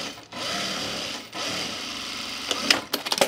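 An overlock serger stitches the front leg of men's chino pants, running in a couple of sustained whirring bursts separated by brief pauses, then ending with short stop-start pulses, close and fairly quiet.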